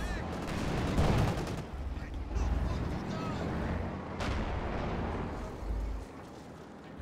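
Continuous heavy battle noise from Company of Heroes 2, with anti-tank gun fire, booming artillery-like blasts and gunfire rolling across a 2v2 match, loud and dense throughout with a sharp crack near the middle.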